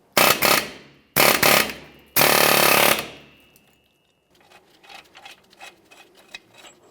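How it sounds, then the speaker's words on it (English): Three loud bursts of rapid air hammering on the back of a wheel bearing on a 1999-2006 Chevrolet Silverado 1500, each under a second, followed by quieter scattered clanks and tool handling. "use an air hammer along the backside"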